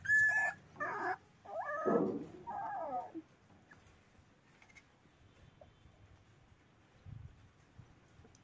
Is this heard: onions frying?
no